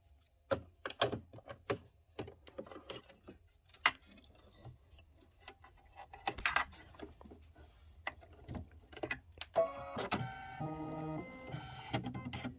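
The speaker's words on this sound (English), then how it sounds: "now it's going to do a pretty little stitch right inside of that satin stitch" An embroidery machine sews a small decorative stitch inside a satin stitch on linen for a Kimberbell autumn quilt block, giving quiet rapid ticks and clacks with irregular bursts and a denser whirring run near the end.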